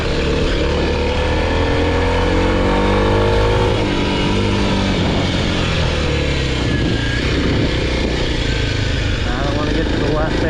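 A 2021 Kawasaki KLX 300 dual sport motorcycle is ridden on a backcountry trail near Boise, Idaho. Its loud engine drones close up and dips and rises through a downshift, with wind rush and a voice talking over it.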